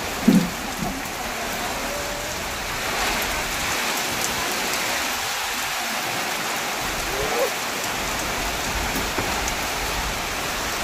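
Steady rain falling outdoors, a continuous broadband hiss of drops on surfaces at even loudness throughout, with no talk heard.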